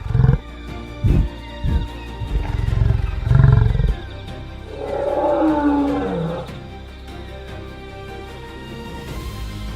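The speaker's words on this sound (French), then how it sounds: "Les lions jaillissent de leur cachette comme une tempête déchaînée." Lions roar as they burst from hiding, several loud, rough roars in the first few seconds followed by a long rumbling growl, with no voices present.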